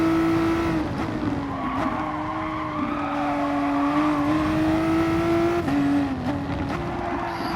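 A VW Supersport race car is driven hard through a corner at the Red Bull Ring, its tyres squealing in a sustained, wavering whine over a steady engine drone.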